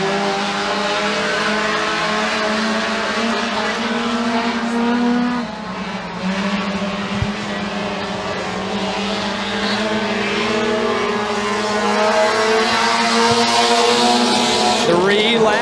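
Mini stock race cars racing at McKean County Raceway, engines droning steadily and loudly for the whole stretch as the pack circles, with a brief dip in the roar midway and a track announcer talking over it.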